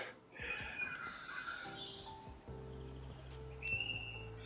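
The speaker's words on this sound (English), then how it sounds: "it's like birds chirping. It's my alarm clock on my." Alarm clock tone of recorded birds chirping and tweeting, bright repeated calls ringing steadily throughout, with a faint low hum beneath; no one speaks.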